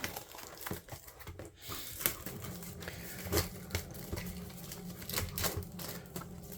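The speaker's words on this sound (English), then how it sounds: "let me go ahead and just open the plastic wrap here" Plastic shrink wrap being torn and peeled off an album, a close run of crinkling, crackling and tearing bursts with short pauses between them.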